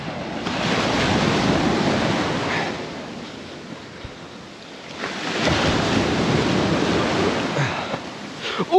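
Ocean waves washing onto a Puget Sound beach at high tide on Marrowstone Island, two broad surges rising and falling close by, with wind buffeting the microphone.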